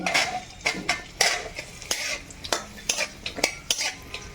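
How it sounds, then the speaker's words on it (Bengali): Nuts and raisins stirred through hot ghee in a wok, with repeated sharp scraping and clinking of a metal spoon against the pan over a faint sizzle, close and fairly loud. "এই ঘিয়ের মধ্যে বাদাম আর কিশমিশ দিয়ে দিলাম একটু বেজে নিতে হবে"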